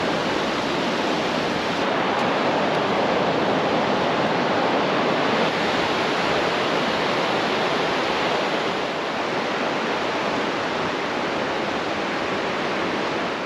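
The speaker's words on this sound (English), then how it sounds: "And there's that raging river." The Lunan Water at Lunan Bay Beach rushes steadily, a loud, unbroken roar of flowing river water close by with no voices.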